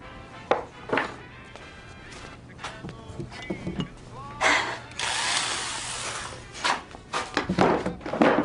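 A power drill whirs in a sustained burst midway, surrounded by knocks, clatter and handling noises of work nearby.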